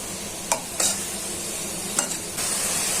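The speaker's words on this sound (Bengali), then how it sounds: "এখন ভালো করে ভাজাটা হয়ে যাবে" Prawns and home-grown vegetable stalks fry in a pan with a constant close sizzle, broken by a few sharp scrapes of a utensil stirring, and no talking.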